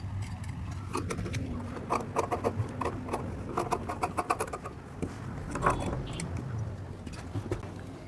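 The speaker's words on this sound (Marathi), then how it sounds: "ही जी शिलाई मारली त्या शिलाईच्या आतून आपण थोडासा कपडा ठेवून हे फॅब्रिक कट करून घेऊया." Scissors cut kurti fabric along a stitched neckline, making a run of close, crisp snipping clicks with brief pauses between strokes.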